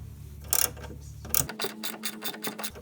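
A ratchet with a 12 mm socket loosens the hood strut bolt on a 1992-1996 Toyota Camry, giving a close run of quick mechanical clicks with a couple of sharper bursts.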